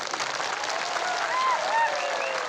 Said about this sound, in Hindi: ताली दीजिए